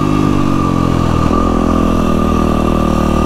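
Dirt bike engine running on a ride, a loud, close, steady drone with strong harmonic tone that dips in pitch briefly midway before settling back to an even hum.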